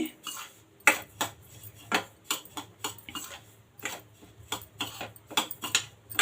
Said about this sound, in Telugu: హాఫ్ కప్ కరాచిన కింద మనం ఫ్రై ఈ నెయ్యిలో కొంచెం వేపుకుందాము